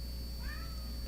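A house cat gives one short, faint meow over a steady electrical hum in an indoor room.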